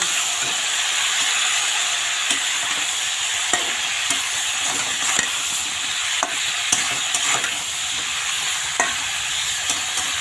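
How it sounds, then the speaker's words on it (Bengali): Pieces of catla fish tossed with salt and turmeric are stirred in a hot pan, giving a steady close sizzle broken by repeated scrapes and taps of the spatula throughout, with no voices. "এখন এটা ভালো করে নেড়ে নেব"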